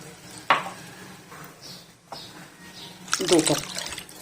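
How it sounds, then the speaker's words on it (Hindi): Water is poured into a fried chicken marinade of milk, salt, black pepper and white pepper and stirred in, with soft liquid splashing and a louder sloshing burst near the end. "2 कप पानी डालेंगे,"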